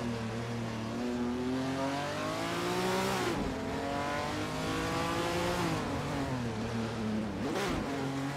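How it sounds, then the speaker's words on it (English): Racing cars on a circuit, among them a Holden Torana and a Nissan Skyline, engines droning steadily close by with rising and falling revs as they shift and push hard, a continuous loud roar without voices. "The battle for 16th is heating up as these drivers push their cars to the limit."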